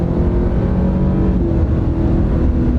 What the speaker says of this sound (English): We'll see how these twin turbos with a little electric motor boost do.